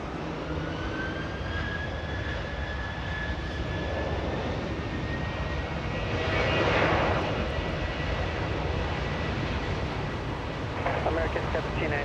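A jet airliner takes off from runway 24 left at Los Angeles International Airport, its engine roar a broad steady rumble with a rising whine that swells midway, while radio voices talk over it.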